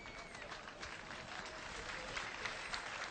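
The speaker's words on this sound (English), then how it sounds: "as the fans here clap" Football fans in a stadium crowd clap steadily at a distance, a continuous wash of applause with general crowd noise.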